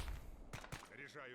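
Rifle gunfire in the military shooter Arma 3, a couple of sharp shots close together in a short burst, followed by a ringing tail.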